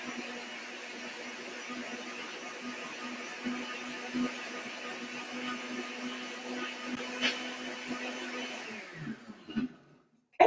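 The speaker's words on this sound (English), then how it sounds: "So those peaches just go right into the blender, and we're going to turn the blender on." Blender whirring on high as it purées fresh peaches for fruit roll-ups, a steady loud motor drone for about nine seconds before cutting off abruptly, followed by a brief clatter.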